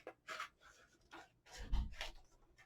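Snips and papery rustles come from cutting a strip of release paper, several short crisp strokes close to the mic with a soft thump partway through, quiet and sparse.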